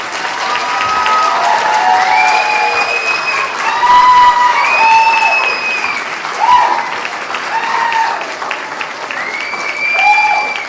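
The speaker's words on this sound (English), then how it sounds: "So let's give them a round of applause." An audience at a fall commencement ceremony applauds the graduates' families, steady dense clapping filling the room with scattered whoops and whistles rising over it throughout.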